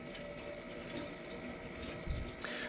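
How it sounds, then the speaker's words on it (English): Water rushes steadily through pipes as it refills a water heater tank, a constant low, faint flow with a slight surge near the end. "Once you hear the water start flowing through here so fast"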